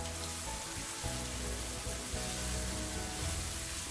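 Chopped white onion, ginger and garlic fry in a pan with a steady, fairly quiet sizzle and crackle throughout and no talking.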